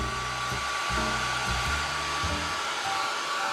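A hair dryer or heat tool drying white paint on a mixed media Fauxdori cover, a steady loud whirring blast close by, running the whole time with no talk.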